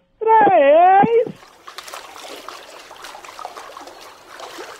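Someone running through water at a pool's edge, a light patter of splashes and trickles after a loud, drawn-out voiced exclamation.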